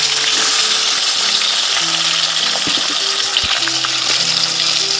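Fish frying in a pan sends up a loud, close, unbroken sizzle and crackle, with faint steady tones lingering in the background and no speech.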